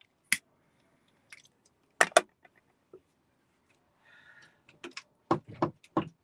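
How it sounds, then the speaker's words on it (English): A thread holder hanging on the back of a shed door knocks against the door in a few sharp, dry taps that come singly and in short clusters, with quiet pauses between them. "That knocking you can hear is me, because I've got like a thing on the back of the door that holds threads"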